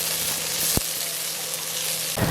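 Ginger and garlic sautéing in a pan for a Jaffna-style country chicken curry, a continuous close sizzle with one sharp clink of a stirring utensil and a soft scrape near the end.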